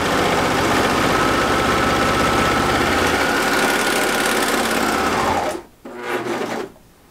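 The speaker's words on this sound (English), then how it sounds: "I'm going to serge across so that I can make the seam a 1/4" seam allowance." A serger stitches a quarter-inch quilt seam joining black and yellow fabric, a loud, steady mechanical whirring for about five and a half seconds, then a brief pause and a short final burst before it stops.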